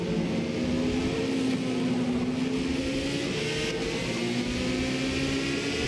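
A Porsche 918 Spyder hybrid sports car running with a steady, loud engine drone and a sustained tonal hum, slight pitch shifts as it revs, heard close and continuous without talk.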